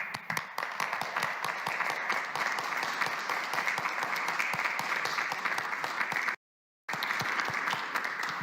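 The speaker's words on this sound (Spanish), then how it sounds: "yo les pediría a todos un aplauso para nuestro personal de salud" Audience applause for medical staff at a Sunday coronavirus press conference, sustained dense clapping that continues evenly with a brief cut of silence near the end.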